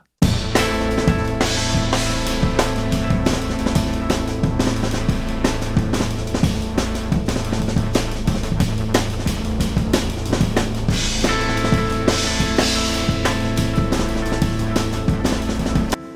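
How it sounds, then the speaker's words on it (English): Strummed guitar chords ring out with echoing repeats trailing behind them, sustained and steady over a full mix, no voices. "the guitar just did a couple of chords, which I added some delay to later"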